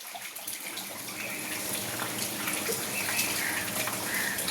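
Water pours and splashes continuously, a soft, steady rush like bathing water being poured.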